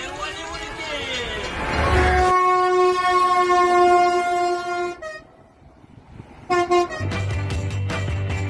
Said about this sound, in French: Attention, le TGV arrive.